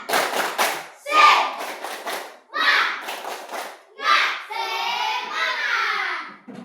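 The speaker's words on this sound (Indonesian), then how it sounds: "Tepuk semangat!" A class of schoolchildren with their teacher performs the 'tepuk semangat' chanted clapping ice-breaker, bursts of rhythmic clapping mixed with young voices, closing in a sustained shouted cheer.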